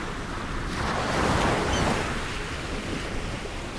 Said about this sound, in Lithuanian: Tai ir gaunu nuolatinį vėją. Kartais stiprų, bet dažniau labai stiprų.